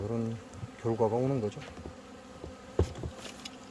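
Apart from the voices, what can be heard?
hornets buzzing, Vespa simillima and small black hornets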